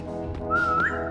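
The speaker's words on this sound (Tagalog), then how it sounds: "Sige, magsipol na ako." A person whistles a signal during a game of 3008, a single clear rising tone that swells then sweeps upward and stops, close and loud over a low background hum.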